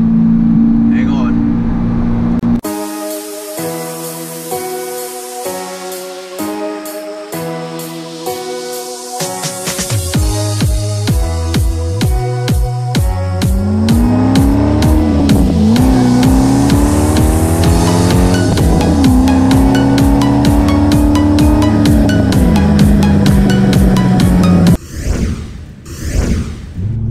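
A 2006 Corvette merges onto a freeway under hard acceleration: a loud, close engine climbing through the revs with rising, sweeping harmonics across several gear changes, briefly dropping away near the end.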